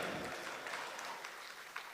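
Clapping from a crowd at a political convention hall, a faint, steady wash of applause with a few sharper claps near the end.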